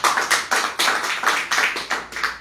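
A church congregation claps together in worship, a dense run of overlapping handclaps pulsing in a steady rhythm, close and fairly loud with no talking over it.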